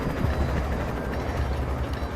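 A helicopter in the video game Alan Wake, a dense low rumbling drone with steady rotor churn, continuous and fairly loud with no gaps for the whole short stretch.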